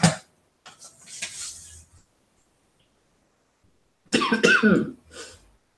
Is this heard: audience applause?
no